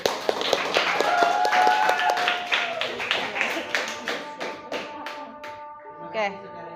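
Classroom applause from a group of students, a burst of scattered, irregular hand claps that starts strong and gradually thins out, with a few voices mixed in toward the end.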